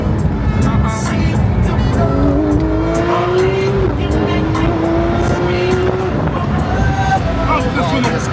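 A Porsche 992 GT3 RS engine wails loudly and continuously, its pitch climbing as it revs, with a squeal of tires and people talking over the sound.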